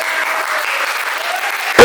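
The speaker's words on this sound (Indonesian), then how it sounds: "Aplaus yang meriah untuk" Lively applause from a classroom of students, a dense, steady patter of many hands clapping close by that carries on throughout, with a louder burst right at the end.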